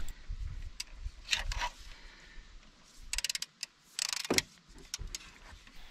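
Torx 55 bolts being loosened on the brakes of a Citroen C5, with bursts of rapid ratchet clicking and metallic tool clatter close by, separated by short pauses and light handling noise.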